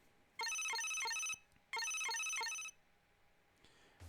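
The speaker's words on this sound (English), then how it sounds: "the loud ringing of an emergency call drowned out my thoughts" An electronic phone ringtone signals an emergency call in the Psycho-Pass Mandatory Happiness video game, sounding as two bright, melodic bursts of rapid chiming tones with a short gap between them, clear against a quiet background.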